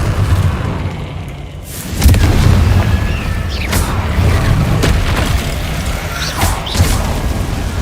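Confringo blasting spells in the Hogwarts Legacy video game set off a heavy, loud explosion followed by rumbling booms and crashing impacts during combat, with no one talking.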